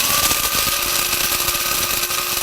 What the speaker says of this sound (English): Now we're going to use our blade grinder